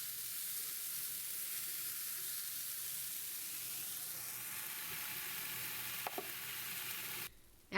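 Vegetables sizzle steadily in sesame oil on a hibachi grill, a constant bright frying hiss close by that holds for several seconds, briefly clatters, then cuts out near the end.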